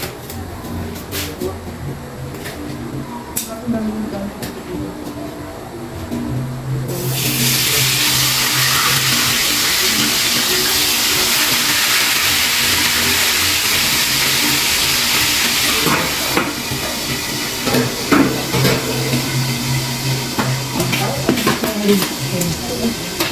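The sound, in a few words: frying in hot oil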